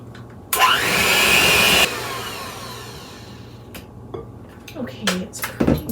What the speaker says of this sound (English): I'm gonna get my mixer. We'll get this mixed up.